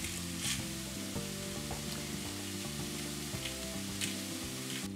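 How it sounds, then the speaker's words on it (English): A pilaf with roasted jalapeños and smoked paprika sizzles steadily in a pan while being stirred, a continuous crackling hiss with faint scraping, mixed with a low tonal hum of music or background sound. "Add the roasted jalapeños, smoked paprika. Keep stirring."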